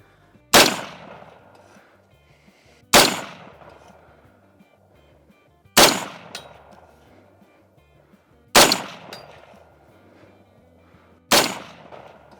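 Five rifle shots fired through an $80 barrel at a target, each a loud, sharp crack with a ringing decay, spaced about two and a half seconds apart, with nothing else heard between them.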